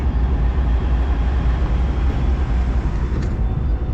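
Amtrak Coast Starlight passenger train number 11 rumbles steadily at Martinez station in California, a loud continuous low drone with a faint brief squeal near the end.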